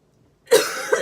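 A single sharp cough bursts out after a moment of silence, followed by a brief raspy tail.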